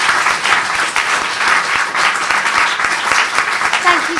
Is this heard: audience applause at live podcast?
yes